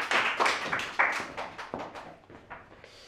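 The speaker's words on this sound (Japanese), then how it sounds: "拍手。" A studio audience claps for a contestant at a livestreamed Chupa Chups fast-opening contest, a burst of close hand claps fading and thinning out over about three seconds.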